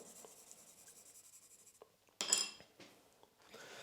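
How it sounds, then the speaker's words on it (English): A pencil scribbling marks across the face of a sharpening stone, faint scratchy strokes with a sharper, louder scrape partway through, quiet and close. "I like to use a pencil and put pencil marks all over the stone"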